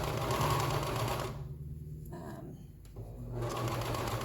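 An embroidery machine stitching on a t-shirt sleeve hums and taps rapidly and steadily, dipping briefly in the middle before resuming, close and clear.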